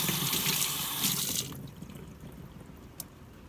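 Tap water runs and splashes as a paint brush is rinsed in a sink, a steady close rush for about a second and a half before stopping, leaving faint drips and handling noises.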